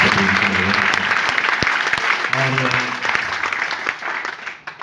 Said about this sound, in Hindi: एक बार दिल खोल के जोरदार तालियां